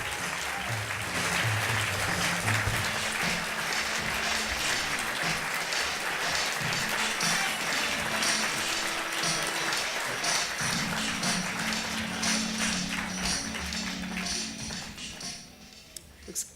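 Audience applause welcoming award fellow Don Chamberlain at a 2009 fellow awards ceremony, a dense, steady ovation of many clapping hands that holds loud for about fifteen seconds before tapering off.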